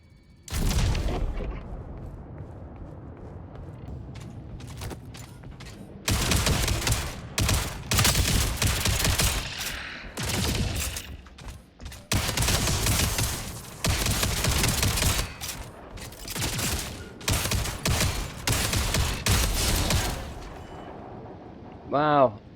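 Rapid bursts of weapon fire in the sci-fi shooter game Jump Space come in loud clustered volleys with short gaps, dense and booming, ending in a brief rising electronic tone.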